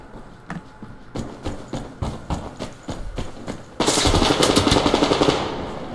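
Gunfire in the shooter game Survarium: a run of sharp single shots that give way to a loud, rapid automatic burst, close and alone with no talk.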